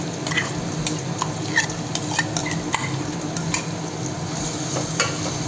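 Ginger-garlic paste and tomato fry in oil for bitter gourd tamarind curry, a close steady sizzle punctuated by repeated spoon scrapes and taps against the pan.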